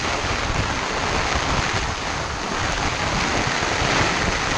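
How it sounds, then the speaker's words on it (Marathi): Heavy monsoon rain in Mahabaleshwar pours down in a dense, unbroken roar of water, loud and steady throughout with no voices. "खूप जास्त पाऊस पडत आहे."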